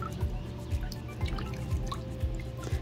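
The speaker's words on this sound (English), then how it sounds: "I will dip it in the water and swish it around" Plant roots with soil being swished through water in a container for hydroponic setup: soft sloshes and drips recur every half second or so, close and gentle, over a low background hum.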